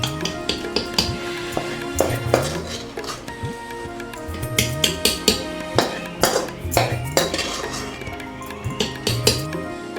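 Chicken curry is being stirred in a pot over a rustic wood-fired stove, with a spoon repeatedly clinking and scraping against the metal in a steady rhythm of close, sharp knocks over a soft cooking background.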